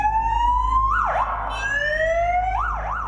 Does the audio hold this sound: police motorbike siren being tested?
yes